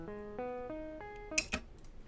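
A dry, unprocessed guitar melody in FL Studio: five clean plucked notes in a slow even rhythm, followed by a couple of sharp percussive clicks.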